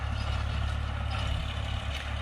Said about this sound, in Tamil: இப்போ தான் வந்து டிராக்டர் விட்டு ஒரு உழவு போட்டுக்கிறோம்